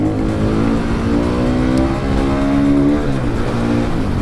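A KTM 500 EXC supermoto engine revs hard up through the gears, a loud, close, continuous single-cylinder roar with rising pitch, a brief dip at a gear change around the middle, then climbing again.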